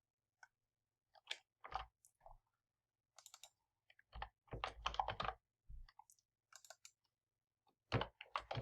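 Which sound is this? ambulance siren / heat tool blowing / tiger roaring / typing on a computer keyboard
typing on a computer keyboard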